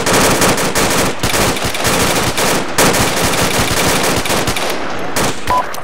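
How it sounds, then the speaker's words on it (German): Sustained machine-gun fire aimed at a Little Bird helicopter in the military game Arma 2, loud close rapid bursts rattling almost continuously, thinning out near the end, no voices. "Beschuss auf Little Bird."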